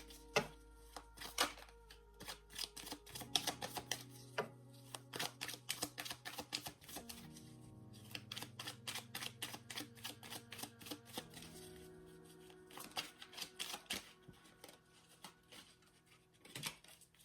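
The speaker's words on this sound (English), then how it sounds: "I'm going to go ahead and lay out the cards, all 9 cards first." Nine tarot cards are laid out one after another in a quiet room, with soft slaps, flicks and papery shuffles in an irregular rhythm and a faint low hum underneath.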